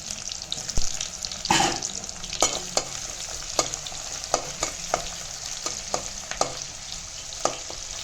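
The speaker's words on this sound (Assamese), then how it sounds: "পিঁয়াজখিনি ৰঙচুৱা হোৱালৈকে ভাজি থাকিম।" Chopped onion frying in hot oil in a pan, a continuous close sizzle broken by sharp clicks and scrapes of stirring, with no voices.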